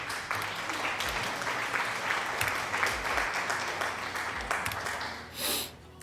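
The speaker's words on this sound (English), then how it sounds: "Thank you for the applause." Steady crowd applause in a gaming livestream during Fallout: New Vegas, a dense continuous clapping texture that holds for about five seconds, then fades out with a brief burst of noise near the end.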